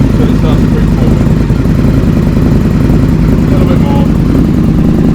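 Motorcycle engine running steadily at low revs in first gear as the clutch is slowly released, loud and close throughout, with a person talking briefly over it.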